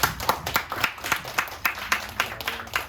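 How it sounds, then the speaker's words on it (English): A small group claps at a mindset training session, producing sparse, distinct hand claps in an uneven, loosely rhythmic pattern rather than a dense roar. "give yourself a round of applause"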